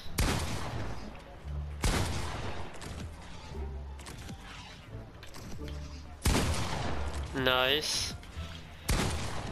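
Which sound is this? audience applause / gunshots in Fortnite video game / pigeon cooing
gunshots in Fortnite video game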